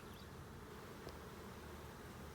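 A steady, dense buzz of honey bees in an open hive fills the clip evenly, many bees droning close by without pause.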